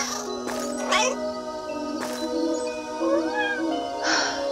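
A cartoon cat meows in a children's fairy tale, several short rising meows and a drawn-out caterwaul spread across the clip, with faint tinkling accents and an animated voice briefly heard.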